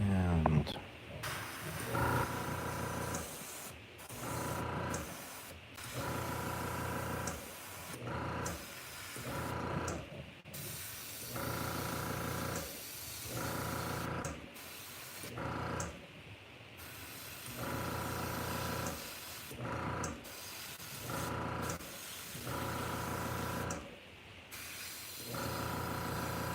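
An airbrush fed by an air compressor sprays paint onto a realistic smallmouth bass swimbait, giving a steady hiss over a constant droning hum that runs throughout, with a voice talking at intervals.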